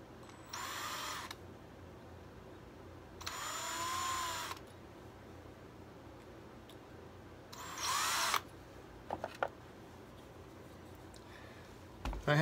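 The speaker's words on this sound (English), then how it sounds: "Drill some pilot holes." A small power drill bores pilot holes in the wooden top of a salt shaker, three short whirring bursts with quiet pauses between, followed by faint clicks and handling.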